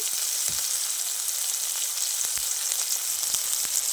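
Chopped tomatoes with a little salt fry in a pan with a steady close sizzle, broken by a few soft scraping knocks as they are stirred.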